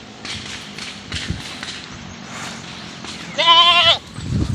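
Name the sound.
goat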